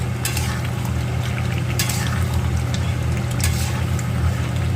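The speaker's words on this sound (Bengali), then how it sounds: "কষানোটা চলছে চিকেনের" Chicken sautéing (kosha) in a pan gives a loud, continuous sizzle with a steady low hum beneath and occasional brief scraping accents from stirring.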